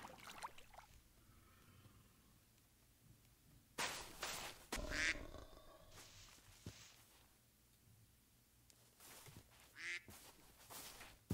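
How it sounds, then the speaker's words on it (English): A drake quacks in a medieval-modded Minecraft world by a shoreline, giving a few short quacks with quiet gaps between them, alongside some splashy water-like bursts, all fairly faint. "It's a drake."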